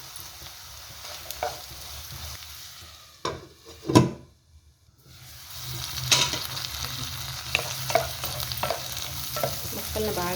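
Thin-sliced onion and chopped carrot frying in oil during tempering, with sizzling and stirring heard close up, a few sharp scrapes of the spoon against the pan and a brief pause in the middle.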